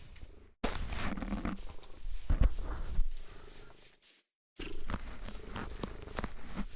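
A cat purring close to the microphone, a steady rumbling purr broken by a short silent gap, with no voices.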